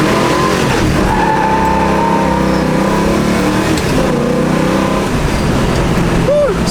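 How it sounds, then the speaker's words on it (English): A 1966 Shelby Mustang GT350 does a burnout with a loud V8 roar and sustained revving, the engine tone rising and holding over the clip, plus a short tire squeal near the end. "Anybody want to see one more burnout?"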